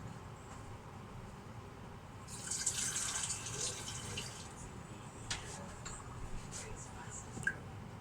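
Water pours into a cooking pot while making chicken aloo: a brief rushing splash swells for about a second, followed by scattered drips and clinks in a quiet kitchen, with a faint voice in the background.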